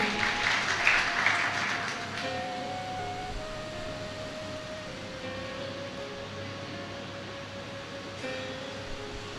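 An audience applauds at a church gathering at Mount Carmel Church, Kakkon. A brief burst of clapping in the first two seconds fades quickly, leaving a low steady hum with faint tonal drones and no speech.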